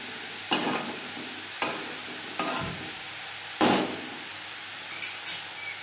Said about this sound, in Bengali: লো টু মিডিয়াম ফ্লেমে লাউর দানা ভেজে নেব।